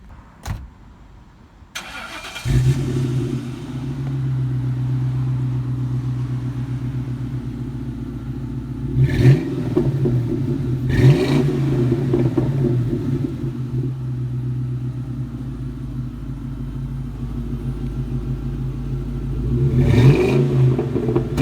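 A black Mustang GT fitted with a Thrush welded muffler starts up and settles into a deep, steady exhaust rumble, with several sharp revs as it pulls away and drives off gently.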